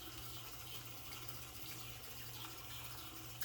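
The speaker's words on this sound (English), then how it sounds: "let me rinse that out so I can show you that beautiful thing" A Polish pottery bowl is rinsed under running water, a steady, even rush from a tap with no breaks and no voices.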